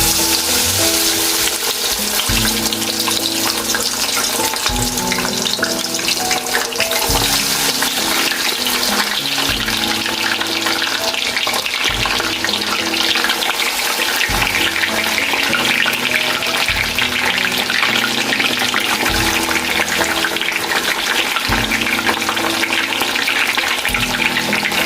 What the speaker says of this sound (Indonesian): Oke, langsung aja kita gorengnya.